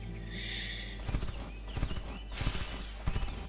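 Hooves of a horse in the video game The Quinfall clip-clop in a quick, steady rhythm over a constant background hum, close and clear, with no talking.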